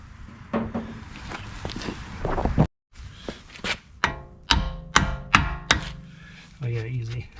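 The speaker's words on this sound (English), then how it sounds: "I'm gonna whack this with my little hand sledge." Small hand sledge hammer whacking a tool to push out the axle during a 2013 Audi A8L wheel bearing replacement: several sharp metallic strikes, spaced irregularly, close by, with some shuffling and handling noise around them.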